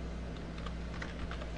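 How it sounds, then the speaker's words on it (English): Rapid typing on a computer keyboard while entering a new file name, a steady patter of light key clicks over a low background hum, no voices. "And then you type a new name"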